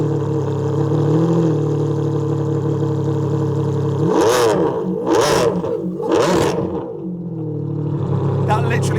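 A Ferrari Enzo with a straight-pipe exhaust sits at a low, steady idle, then lets out three loud, sharp revs in quick succession before settling back to its rumble, with a voice present alongside.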